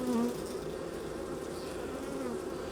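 A honey bee colony in an open hive gives off a steady, dense buzzing hum at close range, continuous and moderately quiet throughout.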